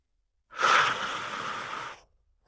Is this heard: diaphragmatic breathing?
yes